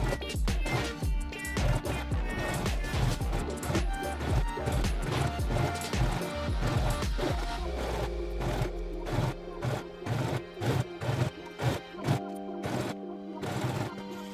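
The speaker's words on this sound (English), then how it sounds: "sew the edge you have pinned down using a seam allowance of 1 centimeter" A sewing machine stitches along a pinned denim jeans edge with a 1 cm seam allowance, running in fast rhythmic bursts that pause and restart, close and fairly loud, with no talking.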